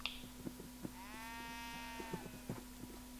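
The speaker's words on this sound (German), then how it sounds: "Aber irgendwie sind hier ständig mehr Schafe." A sheep in the Minecraft video game gives a single wavering bleat in the middle, moderately loud over a steady background hum and scattered soft clicks, with no speech.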